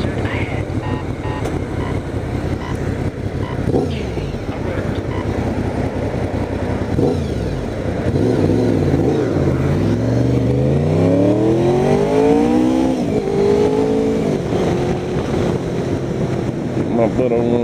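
A car on the road during a commute, moving over into the left lane, with a constant loud roar of road and wind noise and engine tone that rises and shifts midway.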